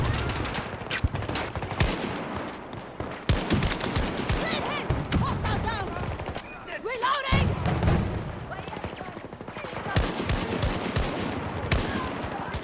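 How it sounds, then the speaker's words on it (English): Shooter video game gunfire rattles in rapid bursts and volleys with occasional booms, loud and close, while players talk over the action. "I'm just gonna shoot down the hall."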